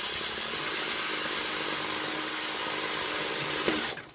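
Power drill with a drill bit boring through a plastic RC car body, a steady whining motor drone held for about four seconds before cutting off abruptly.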